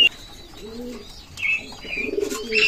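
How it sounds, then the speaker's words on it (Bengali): A pair of high-flying pigeons cooing at close range, with soft low coos rising in short phrases among faint chirps and a few higher tweets, no talking. "এক পেয়ার কবুতর আছে দেখেন"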